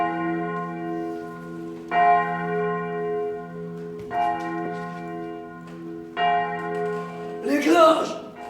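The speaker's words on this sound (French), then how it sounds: "Les cloches! Les cloches! Les grandes cloches" A big church bell tolls in slow, even strikes about two seconds apart, each tone ringing on; a voice cuts in briefly at the end.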